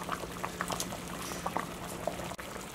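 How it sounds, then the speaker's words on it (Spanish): Seafood soup for a seven-seas style broth boiling steadily in a pot, a close, continuous bubbling and popping with a faint steady hum beneath, no voices. "hirvió muy bien, miren. Muy, pero muy bien."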